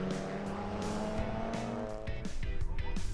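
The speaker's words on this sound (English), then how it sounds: "As the lights went out, it was BMW against Ginetta down towards the hairpin, and Dave Griffin" BMW and Ginetta race cars roar away at the start of a Knockhill race, their engines loud and close with rising revs and a brief squeal of tyres.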